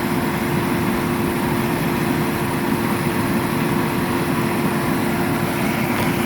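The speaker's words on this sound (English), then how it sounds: "Engine is still running." A car engine idles steadily with the negative battery cable disconnected and the air conditioner on, a constant even hum and drone with no change in pitch or rhythm and no talking.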